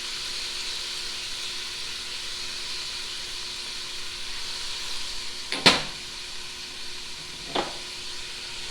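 Seasoned ground beef for a cabbage soup or stew fries in a pan with an even, continuous hissing sizzle. Two sharp utensil clicks cut in near the end, and no one speaks.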